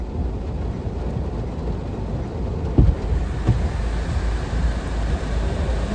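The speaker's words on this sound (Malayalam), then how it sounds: "അയ്യോ മഴ പെയ്തേ." Rain begins falling during an outdoor New Year gathering, a broad steady wash of noise with a couple of soft thuds, no voices heard.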